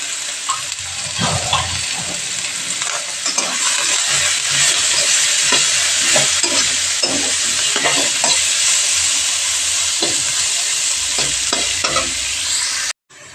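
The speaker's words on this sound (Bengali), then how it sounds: "পেঁয়াজগুলোকে হালকা হালকা ভেজে নেব।" Onions sizzling in hot oil with spices as they fry lightly in a pan, a steady loud sizzle broken by repeated scraping strokes of a stirring spoon, with no talking.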